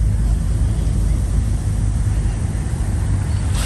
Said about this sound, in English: Watching the waves from afar,